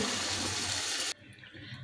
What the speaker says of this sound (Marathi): इथे मी अर्धा ग्लास पाणी ओतत आहे हे गरम करून ओतलेलं पाणी आहे